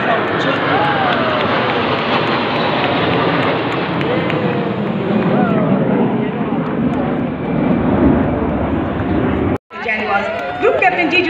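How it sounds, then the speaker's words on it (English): Military jets flying past during India's Republic Day parade, MiG-29s and Sukhois in formation, make a loud, sustained broadband roar that holds steady for about nine seconds, breaks off abruptly, then resumes with crowd and voices audible. "C-17s airborne from Air Force Station Bhinder, MiG-29s from Air Force Station Mal"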